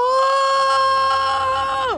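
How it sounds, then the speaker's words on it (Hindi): A woman lets out a loud, sustained high-pitched scream lasting about two seconds that stays steady, then drops off sharply at the end. "अरे क्या चिल्ला रही हो?"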